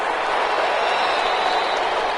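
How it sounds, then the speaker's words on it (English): Crowd applause rises in an American football video game after a defensive stop, a dense, continuous roar of clapping and cheering that holds steady and loud throughout. "How about some applause for the defense there?"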